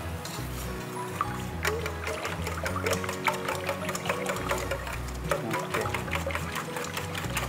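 A cornstarch thickener mixture being whisked by hand in a home kitchen, giving steady rapid clicking strokes against the bowl over a low humming background, with no talk.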